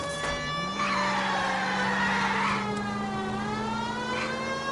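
Car in the L.A. Noire video game during a pursuit, engine revving up and holding a steady loud whine, with tyre squeals sweeping in and out over it.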